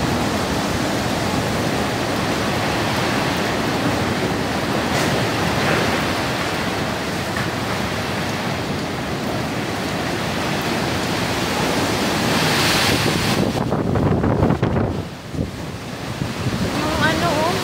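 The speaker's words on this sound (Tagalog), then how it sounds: "Diyan ang hangin to." Strong typhoon wind from Typhoon Uwan roars continuously with a broad rushing noise, loud and close to the microphone, surging stronger near the end.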